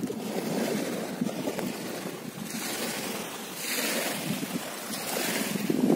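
Sea of Azov waves and surf wash in continuous rolling swells near the shore, with wind buffeting the microphone.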